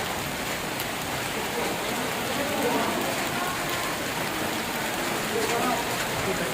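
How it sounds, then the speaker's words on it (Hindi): Hailstorm with heavy rain in Bihar on a January morning: a constant close hiss and patter of falling water and ice on surfaces, with a faint voice in the background. "बारिश के साथ ओलावृष्टि भी हो रही है"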